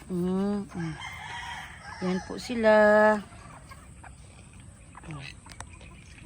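Hens cluck and call in short bursts, with a few longer squawks, while a person speaks briefly nearby; faint steady background hum.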